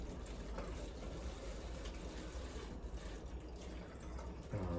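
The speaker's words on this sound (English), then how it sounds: "Inside of the water bottle, I'm going to put hydrogen peroxide." Hydrogen peroxide poured into a water bottle, a steady close liquid fill with trickling and splashing that runs the whole time, no voices.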